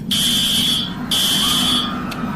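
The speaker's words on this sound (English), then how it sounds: "The lockdown alarm rang." A school lockdown alarm sounds in two long, loud steady electronic tones, each about a second, separated by a brief gap, then a short final blip.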